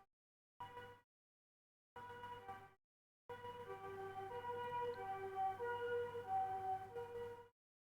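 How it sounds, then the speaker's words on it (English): A siren wails in broken bursts, two short blasts then a longer sustained tone, muffled as if heard from indoors. "there's a siren outside."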